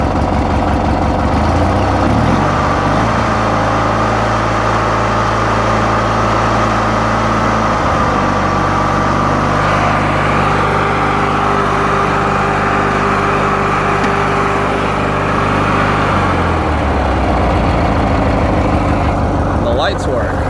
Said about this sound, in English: So I'll start it up for you. It usually starts without choke. Idles pretty well, I think.